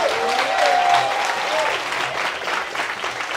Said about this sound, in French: Je voulais qu'on commence par faire un tonnerre d'applaudissements pour celles et ceux grâce à qui ce stand existe